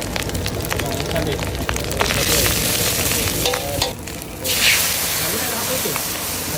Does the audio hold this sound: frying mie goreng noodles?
yes